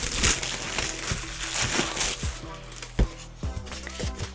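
Individually wrapped painting canvases are unwrapped up close, producing crinkling plastic and crackling packaging with occasional sharp snaps and rustles at a quiet level.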